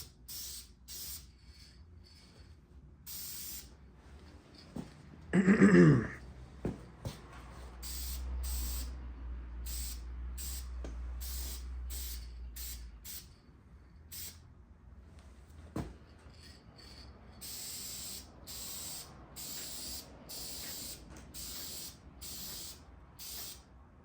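Short bursts of aerosol spray paint hiss in a quiet garage as a second coat goes onto a small-block Chevy 383 stroker engine block, with one louder, longer spray among several brief faint ones.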